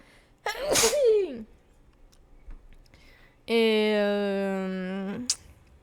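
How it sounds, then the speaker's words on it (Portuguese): A single sharp sneeze up close, followed by quiet, then a long sustained tonal hum or vocal drone ending in a brief burst. "Só um instante que eu vou espirrar"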